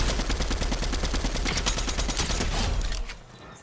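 Rapid gunfire in Fortnite zero build duos: a dense, continuous burst of shots fills the clip, loud and sustained for about three seconds before cutting off into a quieter tail.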